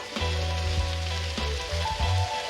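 Pork belly sizzles in an oiled pan for Cambodian wonton mee, a steady close crackle with low humming tones running beneath it and no talking.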